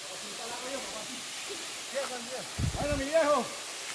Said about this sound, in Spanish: bienvenido a la cascada, la Coca-Cola, municipio Andrés Bello, Mérida, Venezuela